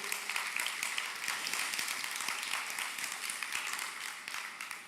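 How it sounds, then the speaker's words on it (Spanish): A church congregation at an evening worship service applauds for the Lord, a steady, moderately faint crowd clapping that holds evenly throughout. "Denle un aplauso al Señor"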